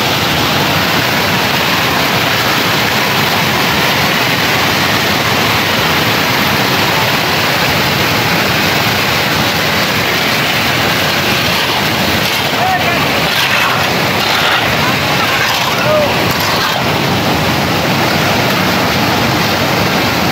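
Water rushes over a road in a steady, loud, unbroken roar that dominates throughout, with no clear voices above it.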